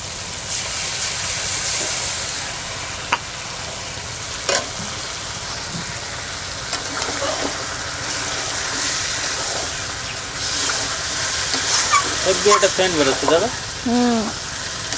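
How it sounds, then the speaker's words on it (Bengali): Stingray pieces sautéing in a pan with spices and onion, ginger and garlic paste, a loud, continuous sizzle with stirring scrapes, and a voice briefly breaking in near the end. "আজকের আমি মাছটাকে ভাজলাম না মাংসর মতন একদম কষিয়ে নিচ্ছি সব মশলা মাখিয়ে"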